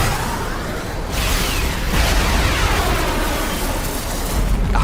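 A detonating device blows up in an animated superhero episode, a broad rumbling blast with whooshing debris swelling and sustaining for several seconds, no voices.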